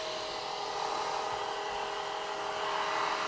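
A Cecotec Conga Rockstar cordless stick vacuum cleaner runs continuously with a steady high-pitched motor whine and airy suction hiss, close and unchanging throughout.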